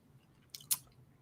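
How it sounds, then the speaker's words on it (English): A tortilla chip is crunched between the teeth, two crisp close bites in quick succession, faint against a quiet room background. "While you're chewing that chip."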